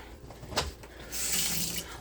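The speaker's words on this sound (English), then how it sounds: "Drain the liquid of the tuna" Liquid from a can of tuna drains into a kitchen sink, a soft splatter and trickle of water with a brief clink, running fairly quiet and steady for a second or so.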